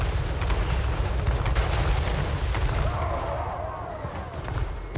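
Battlefield explosions in Total War: Warhammer III during a fight against greenskin orcs, a continuous rumbling barrage of booms and crackling blasts rolling on loudly before thinning slightly toward the end.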